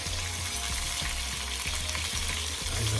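Chicken breasts sizzle steadily in a hot frying pan, a loud, dense crackle that stays constant throughout, with faint low knocks like a utensil moving in the pan.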